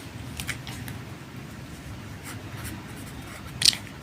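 Pen or pencil scratching across paper while math working is written out, soft continuous strokes with a few brief taps and one sharper click near the end, close and quiet with no voice.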